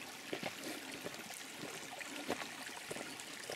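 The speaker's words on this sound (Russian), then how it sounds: "Такой маленький ручеек, совсем мало воды." A small mountain stream with very little water trickles over stones in the Crimean mountains near Lake Panagia in Zelenogorye. It makes a faint, steady burble with scattered soft splashes, heard alone and without talk.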